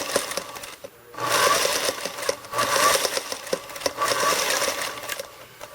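Sewing machine stitching a quilt-as-you-go block, turned by its hand crank: three bursts of close, rapid mechanical clatter, each a second or so long, separated by short pauses for pivoting the fabric.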